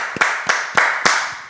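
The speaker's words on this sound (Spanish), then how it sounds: "vamos a recibir con un aplauso a Santiago Rojas Villabona" Four sharp, evenly spaced hand claps ring out close by at a steady brisk pace, sounding like sparse clapping from a small studio audience welcoming a guest.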